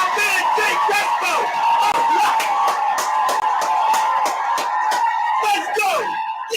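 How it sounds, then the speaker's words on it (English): A studio group cheers and whoops loudly for a guest joining a sports talk show, with rhythmic shouts and clapping-like bursts filling the whole stretch, voices mixed in throughout. "Big round of applause for my man Jay Crespo."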